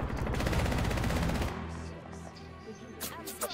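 Rapid automatic gunfire in the battle royale game Apex Legends rattles loudly in a dense burst, then stops and leaves quieter game sounds with a few faint later noises.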